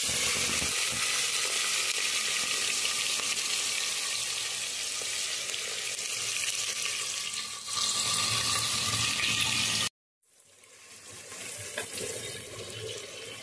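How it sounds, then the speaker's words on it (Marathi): Onion frying with masala and cinnamon inside a pressure cooker: a loud, dense, continuous sizzle that cuts off abruptly near the end, then resumes more quietly, with no voices. "आता कुकरमध्ये हा आपल्याला कांदा चांगला फ्राय करून घ्यायचा आहे।"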